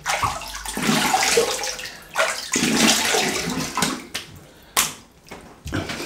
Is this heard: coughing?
no